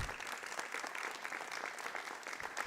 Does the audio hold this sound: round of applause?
yes